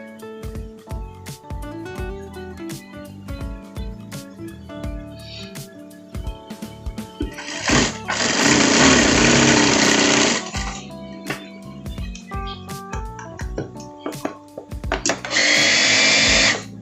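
Sewing machine stitching the front pocket of a parka jacket, a loud steady whirring run of several seconds, then a pause of quieter handling and a second, shorter burst of stitching.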